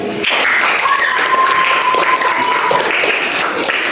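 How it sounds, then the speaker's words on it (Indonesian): A classroom of students claps together for two classmates, a dense, steady round of applause lasting about three seconds at close range, with a teacher's brief words at the start and a faint tone running underneath. "Beri tepuk tangan"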